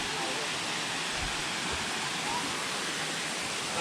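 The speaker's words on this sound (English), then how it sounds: "the waterfalls are pretty spectacular again, and the water's so clear" Erawan Waterfall in Kanchanaburi sends clear water down in a steady, dense rushing roar that fills the whole stretch without a break, close and continuous.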